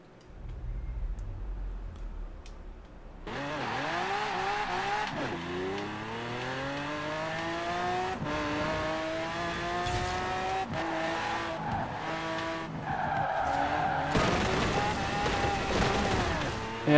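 Car driving in the video game Forza Horizon 4 during a winter festival stunt: after a quiet start the engine revs up and down through rising gear sweeps with tire squeal and skidding, loud and continuous for about fourteen seconds.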